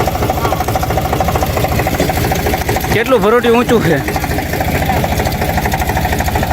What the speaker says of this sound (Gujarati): આ જો ટ્રેક્ટર કરી દીધું ચાલુ